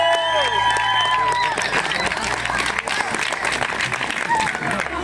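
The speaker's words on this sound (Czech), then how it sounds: "potlesk pro bílého koně, prosím." At a Masopust carnival in Nová Paka, a crowd applauds the white horse costume, dense clapping with scattered cheers alongside a voice talking over it.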